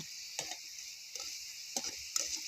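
Goja sweets deep frying in hot oil: a steady, bright sizzling hiss runs throughout, with a few brief louder crackles and bubbling bursts, close and moderately quiet.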